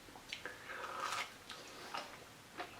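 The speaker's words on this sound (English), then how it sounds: "You got the initial crunch going into a meaty mushroom with another crunch on it" A breaded portobello mushroom tot is bitten with a few quiet, crisp crunches and chews close up, in a soft, otherwise still room.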